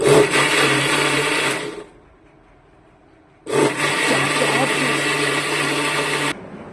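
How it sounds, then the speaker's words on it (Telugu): A mixer grinder whirs loudly in two long bursts blending fruit and chia seeds for ice cream, with a short quiet pause between them; the motor's steady roar fills the clip. "తర్వాత మళ్ళీ మిక్సీ చేసుకోవాలి."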